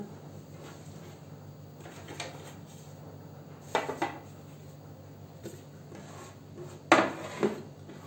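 Manti dumplings dropping from a manti mold onto a tray make a few scattered light clatters and taps over quiet room noise, close by, with a sharper cluster of hits near the end and no talking.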